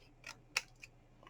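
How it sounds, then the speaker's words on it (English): Scissors snip through a cardboard box flap while a candle gift box with an inner holder is made: a few short, crisp cuts, the middle one loudest, in a quiet room. "Cut one of the flaps"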